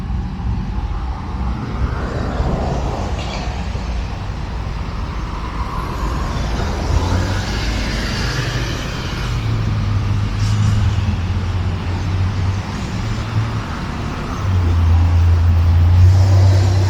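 Steady street traffic along Historic Central Avenue beside Bathhouse Row in Hot Springs, Arkansas, with cars and heavier vehicles rumbling past continuously, a low engine drone swelling louder near the end.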